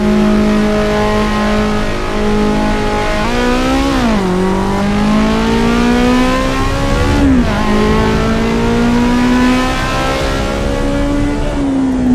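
A road car's engine sits on the rev limiter in the pits of the Assetto Corsa Evo racing game, giving a loud, sustained buzzing drone that wavers and dips briefly a few times without letting up.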